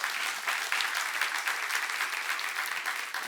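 A church congregation claps together during a sermon at a seminar, producing a continuous, even wash of applause throughout.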